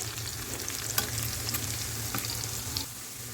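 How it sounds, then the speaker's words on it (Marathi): Garlic cloves, ginger and sliced green chillies frying in a pan for egg curry, a steady close sizzle with scattered crackles and pops throughout, no voices. "लसणाच्या पंधरा वीस पाकळ्या दोन इंच अद्रकचा तुकडा मी कट करून घेतला आहे आणि दोन मिरच्याचे काप हे सगळं मी थोडंसं फ्राय करून घेते"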